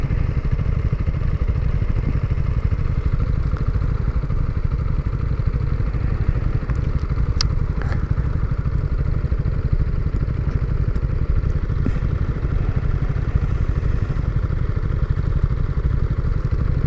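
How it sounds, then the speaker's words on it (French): A small engine runs steadily and close by, a continuous buzzing putter at constant volume with occasional faint clicks and no speech. "Sympa ce petit scooter."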